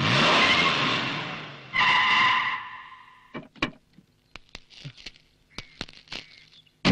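A car pulls away with a loud rushing surge of engine and tyre noise for a few seconds. Scattered clicks and knocks follow as it fades.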